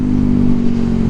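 A 300cc motorcycle engine, ridden hard, holds a loud, steady high-revving drone with a rough, buzzing texture for a brief moment, close up.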